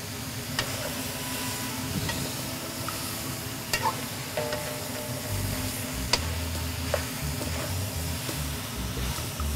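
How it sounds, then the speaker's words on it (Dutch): Fresh vegetables and leeks sizzle in a pan, a continuous moderate crackle close by, broken by occasional clinks and scrapes from stirring. "Zo, die lekkere groenten bakken we ook even mee."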